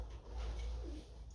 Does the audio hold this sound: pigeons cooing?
yes